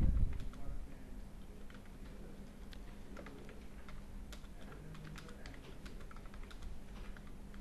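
Code for an Oracle 10g PL/SQL lesson is typed on a computer keyboard, producing a steady patter of light, closely spaced key clicks that stays fairly quiet and even throughout.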